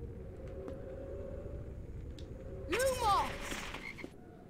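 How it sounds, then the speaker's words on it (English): Frog croaking in the Harry Potter and the Philosopher's Stone PS2 video game: a short burst of two or three close croaks rising out of steady background ambience, then fading. "There is a frog so close,"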